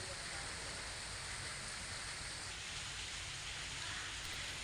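Steady monsoon rain pours down in Junagadh, a dense, unbroken hiss of drops that stays even and fairly faint throughout.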